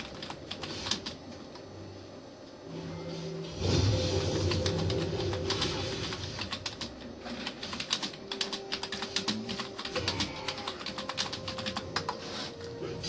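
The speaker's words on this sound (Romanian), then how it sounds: "Știu că o să vă deranjeze tastatura și mouse-ul meu că o se aude" Close, rapid and irregular clicks from a computer keyboard and mouse during League of Legends play, heard without speech.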